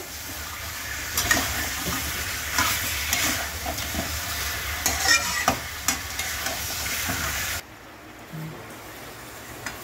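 Chicken and potatoes with cumin and coriander spices being sautéed in a pan, a busy sizzle with scraping stirs and clattering spatula knocks, the frying cutting off abruptly near the end to near silence.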